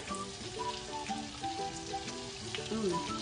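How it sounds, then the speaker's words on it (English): Chopped garlic sizzling in melting butter in a pan, a soft, steady crackling fry with light popping, faint and close. "while the butter is melting here, we're going to be adding some chopped up garlic"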